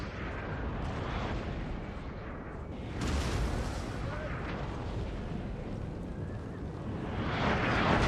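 Deep booming cannon blasts from the video game Napoleon: Total War rumble amid a dense, chaotic battle din, with swelling bursts of explosive noise; a faint voice may be present.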